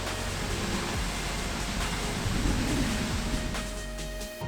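Seljalandsfoss waterfall in southern Iceland roars as a continuous broadband rush of falling water, steady and loud, heard alone without voices.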